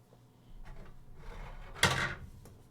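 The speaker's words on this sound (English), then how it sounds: "So I'm just like knocking everything over just off screen." Objects being knocked over just out of view at a painting desk, soft shuffling followed by a single louder clattering bump, close and brief.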